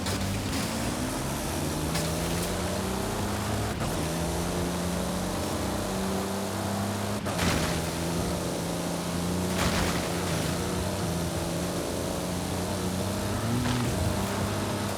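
Car engine in Forza Horizon 5 played on a Thrustmaster T248 wheel, a steady droning motor with rising and falling pitch through gear changes, loud and continuous with no talk.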